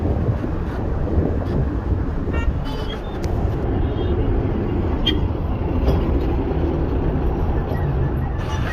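A TNSTC government bus rumbles steadily along the road from Chennai to Tiruvannamalai, a loud continuous engine drone and road noise heard from inside the cabin, with occasional rattles and clicks.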